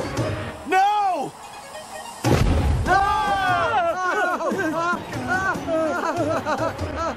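A tire blows out with a loud burst or bang that cuts through lively crowd chatter and overlapping voices, with a second heavy thump a moment later.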